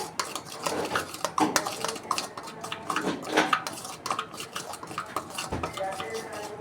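A spoon clinks and scrapes in a bowl while black pepper, dry mango powder, red chilli and black salt are mixed, making irregular close metallic taps and rattles.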